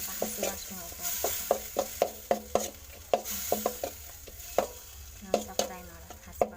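Masala fries in a pan while a spatula stirs it in quick, rhythmic scrapes and clicks over a soft background sizzle, close and moderately quiet.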